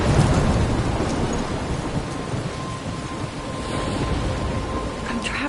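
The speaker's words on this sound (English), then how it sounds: "I'm trapped in a storm?" A video-game thunderstorm near a lighthouse brings steady heavy rain and a low rumble of thunder throughout, loud and unbroken.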